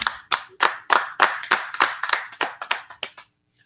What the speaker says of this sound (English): give a round of applause for the pizza